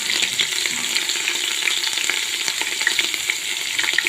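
Mustard seeds, ginger, chili, garlic and asafoetida crackle and sizzle in hot oil, a dense continuous frying hiss with scattered pops and stirring, close and loud with no talking.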